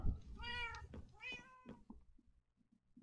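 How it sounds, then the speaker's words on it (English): A cat meows indoors, two drawn-out, clear meows in quick succession, fairly close and loud, followed by faint room noise and soft thumps. "Oh, it's a cat."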